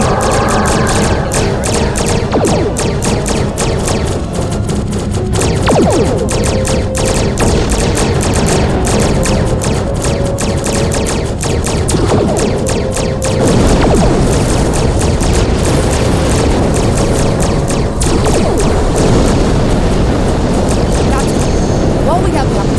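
High-yield torpedo fire and explosions in a Star Trek Online starship battle: a dense, loud barrage of rapid bursts and booming blasts rolls on without pause, with a voice speaking over the combat.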